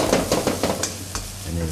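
Shallots stir-fried in oil in a wok, a steady sizzle broken by rhythmic scraping strokes of a spatula, loud and close, with no talking over it.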